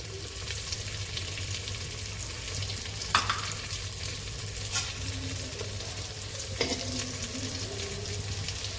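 Kathiyawadi-style whole eggplant and potato curry roasting in a pan, a steady sizzle and fry hiss running throughout with a couple of brief stirring scrapes, fairly close and with no talk.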